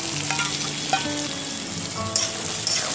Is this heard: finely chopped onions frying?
yes